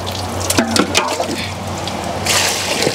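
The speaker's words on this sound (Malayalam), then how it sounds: "ഒരു 5-6 തവണ നമുക്ക് വെള്ളം ഒഴിച്ച് നല്ലോണം ഒന്ന് കഴുകൊണ്ട് തിരുമ്മിയെടുക്കാം." Water poured over buffalo tripe to wash it, splashing and running in uneven bursts with a brief gush near the end, close and moderately loud.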